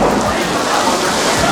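Rain falls steadily outdoors at the Epcot International Food and Wine Festival, a dense, even hiss heard close and continuous throughout.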